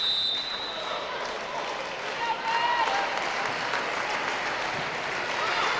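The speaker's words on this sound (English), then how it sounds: "Staccato clapping, the Raiders bench" Rhythmic staccato clapping comes from the Raiders bench and the home crowd in a college gym during a women's volleyball match, one point from winning the game, with a commentator talking over the steady crowd noise.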